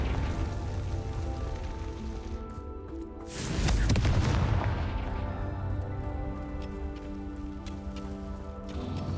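The Confringo blasting spell in Hogwarts Legacy bursts once in a deep, rumbling explosion midway through, rising out of a soft, rain-like ambient bed and then trailing off into a low, fading rumble.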